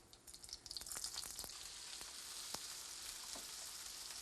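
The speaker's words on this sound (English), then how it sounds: "This way we'll begin to sear the eggplant rather than having the eggplant actually absorb the butter" Eggplant sears in hot butter in a hot pan with a bright, steady sizzle, punctuated by a few sharp pops and crackles, close by.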